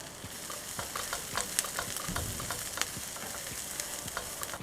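Onions and crushed garlic frying in oil in a pan, a soft steady sizzle with scattered light crackles and pops, fairly quiet and close, no voices.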